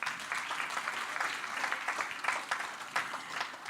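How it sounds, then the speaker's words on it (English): An audience applauds at the close of an OJK international research forum, scattered clapping heard faint and somewhat distant, rising and falling in small bursts. "Please give big round of applause for all of us."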